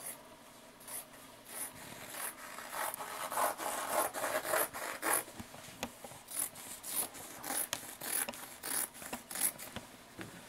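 Scissors trim excess fabric off a sewing pattern piece, giving a close series of crisp snipping and rasping cuts that come in quick bursts with no talking.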